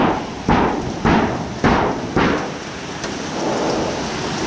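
Hail pelts down outdoors on a winter day as a dense, steady broadband patter. Several sharp surges repeat about every half second before it settles into a continuous roar.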